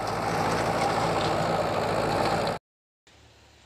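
Tractor engine running steadily in a field during sowing of summer urad beans, a loud continuous diesel drone that abruptly cuts out, then resumes much quieter after a short silence.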